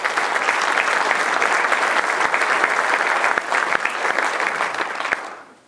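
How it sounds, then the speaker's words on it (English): An audience at a civic investor presentation gives a sustained round of applause, many hands clapping in a thick, even roar that fades away at the end. "Let's have a round of applause for those Platinum investors"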